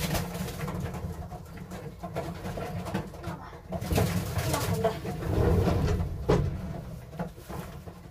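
Pigeons in a loft being treated for canker coo softly and repeatedly, with wing flutters and cage or door rattles nearby, moderately close and fairly continuous.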